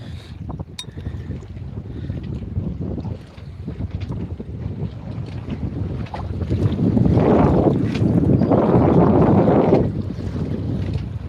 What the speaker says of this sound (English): That wind's changing right at this second.